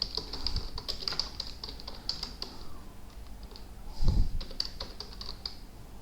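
Steady tapping on a computer keyboard while entering text in an Excel spreadsheet, close and fairly soft, with one louder knock near the end.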